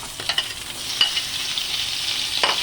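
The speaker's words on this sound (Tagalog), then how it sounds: "umpisa na natin igisa ang garlic at saka white onion" Garlic and white onion sautéing in a pan for dinuguan, a soft steady sizzle punctuated by a few sharp clicks and scrapes of stirring, close and fairly quiet with no talking.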